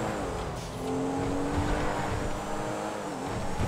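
A modded car in GTA 5 drives with a steady, loud engine drone, rising and shifting in pitch as it revs through the gears, with a faint tire squeal and no talk.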